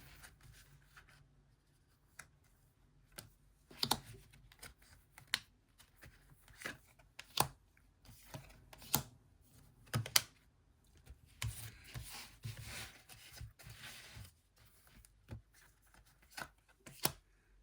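Picture cards are sorted by hand: soft, close flicks and papery rustles come in an irregular scatter at low volume, with no voices.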